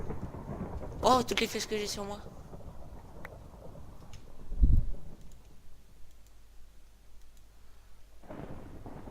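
A deep rumble of thunder from lightning in a Minecraft hunger games match rolls in briefly under steady rain-like noise and clicking, with someone talking in French.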